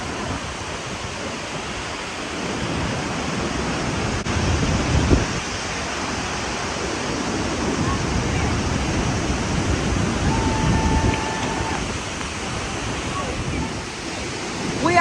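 Ruacana waterfall in Namibia roars close by, its drenching spray throwing up a dense, continuous rushing noise that swells and settles slightly, with a voice speaking over it.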